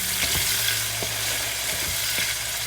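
Tomatoes sizzling and frying in a pan while cooking for ghee sambhar, a steady hiss with occasional stirring knocks against the pan and no talk.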